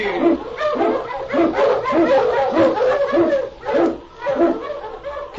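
Eskimo husky sled dogs bark in a rapid, overlapping rhythm, loud and close, a steady chorus of yelps and barks through a cold trail scene.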